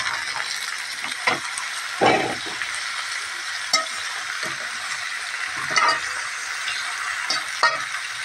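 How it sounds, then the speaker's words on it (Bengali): Cauliflower florets go into a browned spice paste in a hot pan, producing a continuous frying sizzle broken by several louder bursts and scraping stirs, with no voices. "দেখো, এই যে দেখো ফুলকপি আমি ঢেলে দেবো।"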